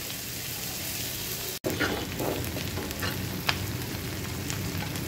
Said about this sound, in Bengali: ভাজা তেলের মধ্যেই পেঁয়াজ দিয়েছি।